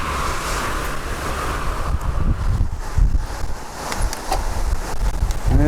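Wind buffeting a microphone while cycling along flat, straight roads, a loud gusting rush that swells and dips, with rumbling low buffets throughout and no voices.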